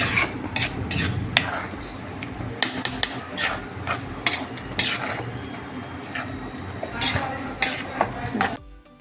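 Modak dough mixture stirred and turned in a pan until it dries, with a steady stream of scraping spoon-on-metal clinks and knocks close by, under occasional talk.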